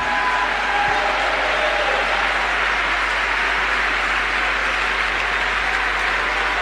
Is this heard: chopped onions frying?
no